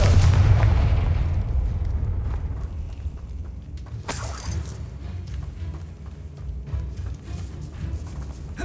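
A Confringo fire-blast spell from Hogwarts Legacy bursts with a deep, loud boom at the start, trailed by a rumbling decay and a bright crackling flare midway, with no voices.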